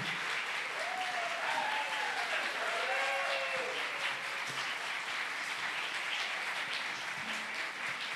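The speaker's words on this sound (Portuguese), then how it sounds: "eu quero que nós possamos receber Cida Mendes com palmas bem calorosas" Warm audience applause greets an actress coming on stage at a literary festival, a steady wash of many hands clapping that holds for several seconds, with faint voices under it.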